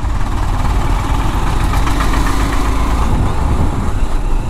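A Honda CB200X motorcycle engine runs steadily, a loud, continuous close-up drone with a low mechanical knock and vibration throughout and no talk.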